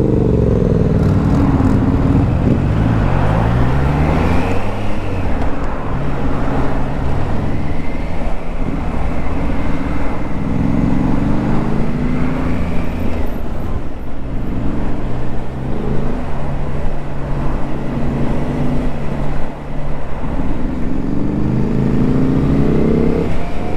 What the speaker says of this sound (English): Now the exhaust whistles and purrs at the same time.